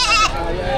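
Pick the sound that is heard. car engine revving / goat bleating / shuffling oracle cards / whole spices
goat bleating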